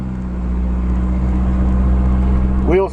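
A VW 1.6-litre diesel engine in a caravan that had sat unused for seven years runs with a steady, close, low drone, and a brief rising squeal comes at the end.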